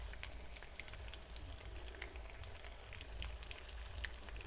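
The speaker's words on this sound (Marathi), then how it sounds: "आपल्या काही भेंड्या याच्यात तळत येतात अजून" Okra frying in oil with gram flour, a soft, quiet continuous crackle and bubbling sizzle throughout, no talk.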